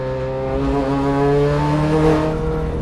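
A Subaru time attack race car fitted with a Precision Turbo and ETS kit accelerates on a track, its engine giving a loud, steady, strongly tonal drone that holds close and continuous throughout.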